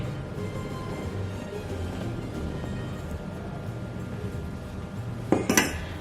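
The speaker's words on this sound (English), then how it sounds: "and then we'll give this a thorough mix" Bread dough ingredients stirred in a bowl, a quiet steady scraping and clinking of a utensil against the dish, ending in a couple of sharper louder clinks; no one speaks.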